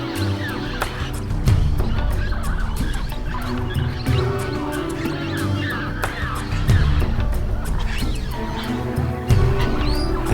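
Chorus of blue-headed parrots squawking and chattering in Peru, with repeated harsh calls over a busy low rumble of birds and background activity, fairly close and continuous.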